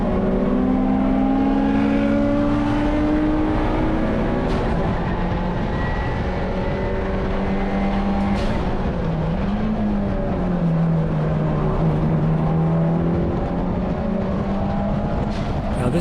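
A Mitsubishi Evo 9 race car lapping a sun-baked track in a wheel-to-wheel race, its loud, close engine droning continuously as the pitch rises and falls through acceleration and shifts.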